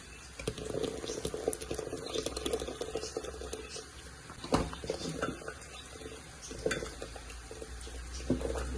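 A pot of village-style tomato curry bubbles and simmers steadily, with soft stirring and occasional scraping of a utensil against the pan.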